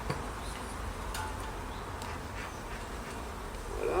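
A colony of bees buzzing during a 2022 hive installation as the bees are brushed down, giving a dense, continuous droning hum close by that swells slightly toward the end, with no talk.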